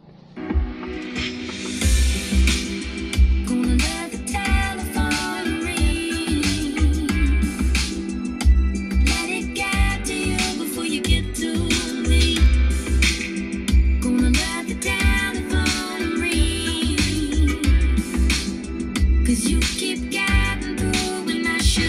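Music playing loud and full through an upgraded three-way car audio system with full DSP and sound deadening in a second-generation Toyota Avanza, with steady deep bass and bright treble throughout.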